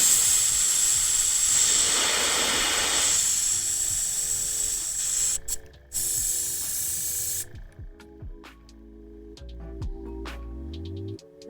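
An airbrush hisses steadily as paint is back-blown, mixed and rinsed, a loud close spray that cuts off abruptly, followed by quieter clicks and handling sounds.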